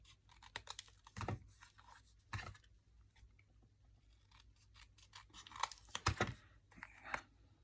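Scissors snipping paper pieces for a scrapbook tag layout: a handful of close, crisp cuts in short bursts, with soft paper rustling and handling between them and no voice.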